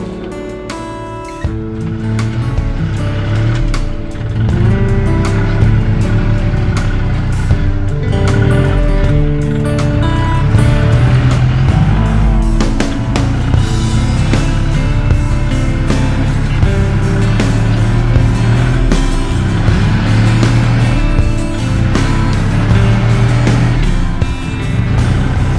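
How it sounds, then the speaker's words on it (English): A heavily loaded vehicle climbing a muddy hill, wheel spinning in the mud, its engine droning loud and continuous with a churning, straining roar that never lets up. "this is just way too much of a load on there with that mud. That wheel just is spinning"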